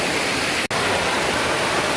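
A creek flows steadily nearby with a constant broadband rushing of water, loud and unbroken apart from one brief dropout, and no talking.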